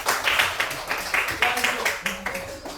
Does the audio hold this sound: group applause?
yes